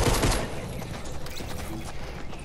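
Gunfire rings out in a shooter video game, a quick burst of loud shots at the very start, then a busier, fainter stretch of mechanical clatter and background noise.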